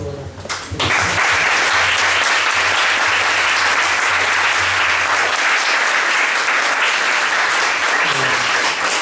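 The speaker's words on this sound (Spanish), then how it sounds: "agradecerle a ustedes, a los expositores, con un aplauso" An audience at a book presentation on the history of communism in Chile gives the speakers a loud, full round of applause that starts abruptly after a brief moment of talk and holds steady to the end.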